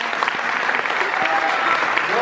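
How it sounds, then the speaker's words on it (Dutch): An audience claps warmly for a speaker at a talk event, a brief, steady, fairly close wash of applause with a few voices mixed in. "graag een warm applaus voor"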